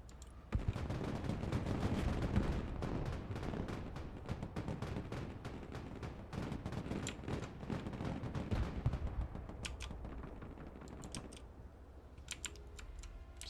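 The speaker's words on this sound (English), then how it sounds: "Somebody seems to be firing grenade launchers." Grenade launchers firing during a battle in the video game Broken Arrow, heard as rapid, irregular bursts of sharp cracks and thuds that go on throughout, fairly faint and distant, with no talking.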